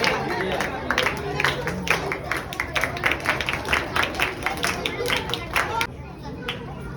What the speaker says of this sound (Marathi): महिलांनी पण टाळ्या वाजवायच्या आहेत.